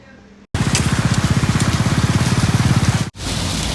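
Steady broadband rain hiss with a rhythmic low pulsing, like heavy rain drumming near a vehicle, cutting off sharply twice.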